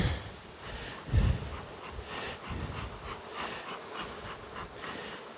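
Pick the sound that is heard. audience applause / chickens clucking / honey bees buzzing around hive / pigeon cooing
honey bees buzzing around hive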